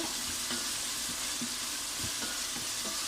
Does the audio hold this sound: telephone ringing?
no